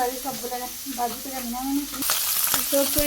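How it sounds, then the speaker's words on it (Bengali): Eggplant pieces drop into hot oil in a Bangladeshi village kitchen, giving a sudden loud sizzle that swells and continues, following a woman's speech at the start. "তেল গরম হয়ে গেছে বেগুন দিয়ে দিই"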